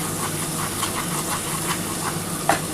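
Water poured into spice masala frying in a pan for a Bengali chicken and potato curry, a steady sizzle and hiss with stirring scrapes and a brief splashy burst near the end.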